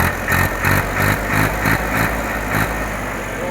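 A 2012-13 Massey Ferguson 7250 tractor idles close by. The engine throbs loudly and steadily, with a regular pulsing beat and nothing else over it.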